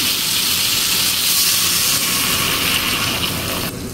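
Loud, steady sizzling and hissing as liquid hits a hot pan of potol (pointed gourd) curry, a continuous bright rush of steam that barely changes and eases slightly at the very end.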